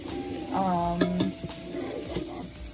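Onions cooking down toward caramelized in a pan for cheesy chicken broccoli soup, a moderate sizzle with a few clinks of a utensil and a brief tonal squeak near the start.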